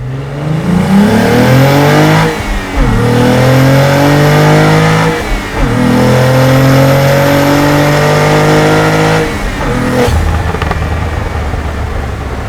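A Cadillac CT4-V Blackwing accelerates hard, engine and exhaust rising in pitch through three strong pulls with short gaps at the gear changes, loud and close with no talking.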